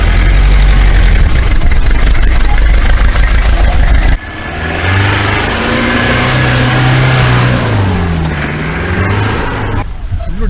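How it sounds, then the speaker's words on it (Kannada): Mahindra Bolero 4x4 engine pulling up an off-road dirt track, a loud steady drone that drops to a lower, varying labouring note partway through, with voices talking over it. "ನೋಡೋಣ ನಮ್ಮ ಗಾಡಿ ಹೆಂಗೆ ಹತ್ತುತ್ತೆ ಅಂತ"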